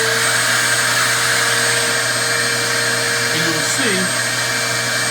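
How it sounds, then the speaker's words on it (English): Wet vac hose fitted to a funnel sucks pet urine out of a delicate wool rug, a loud steady motor roar with shifting whine, while a voice speaks briefly over it. "You would then attach your wet vac hose to the funnel"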